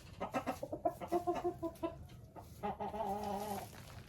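A Marans hen clucks inside a chicken coop in short, close, rhythmic bursts, pausing briefly before a longer run of clucks near the end.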